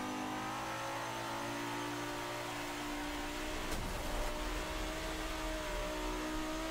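A racing car's engine in Forza Motorsport 5 revs steadily at high pitch, a continuous loud whine with rising harmonics and a brief shift-like blip midway, driven with a wheel at speed.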